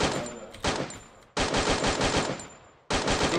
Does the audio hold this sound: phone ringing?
no